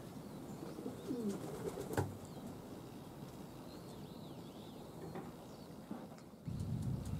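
Pet pigeons circle a loft on a clear autumn morning, with scattered flapping wing sounds and soft bird calls over steady outdoor ambience, fairly faint and distant.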